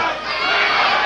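A boxing arena crowd reacts loudly during a Mancini bout, a dense roar of voices and cheers sustained for about a second.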